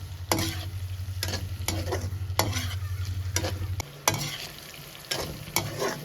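Coarsely pounded spice paste frying in a pan, with a steady close sizzle broken by repeated scraping stirs of a utensil against the pan.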